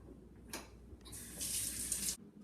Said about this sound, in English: So we're going to wash hands today because that's what we do